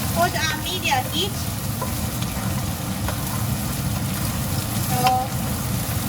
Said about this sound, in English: So keep stir frying.